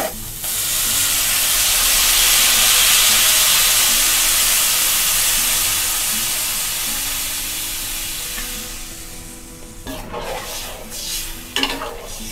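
Water poured into cauliflower and potatoes frying in a pan for a curry gives a loud, steady sizzling hiss that builds, then slowly fades, ending with a few clatters of stirring.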